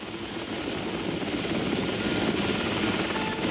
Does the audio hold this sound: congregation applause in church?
no